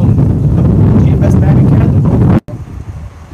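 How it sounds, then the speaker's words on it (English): Gusty wind blows hard across the microphone during outdoor street preaching, a loud buffeting rumble that cuts out abruptly, then returns more faintly with a voice underneath. "we have a kind of windy day here"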